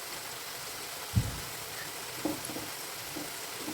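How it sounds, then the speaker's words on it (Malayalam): Jackfruit chips frying in oil over a medium flame, a steady soft sizzle broken by a thud and a few light scraping knocks as they are stirred. "ഇനി ഇത് നമുക്ക് ഇളക്കി കൊടുത്ത് ഫ്രൈ ചെയ്തെടുക്കാം."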